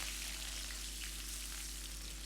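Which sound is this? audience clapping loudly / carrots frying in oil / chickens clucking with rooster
carrots frying in oil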